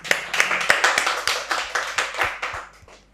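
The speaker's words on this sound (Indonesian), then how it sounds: "Tepuk tangan dulu dong." A small group of people claps in short bursts of a dozen or so sharp, closely spaced claps that fade out after about three seconds, heard nearby in a podcast studio.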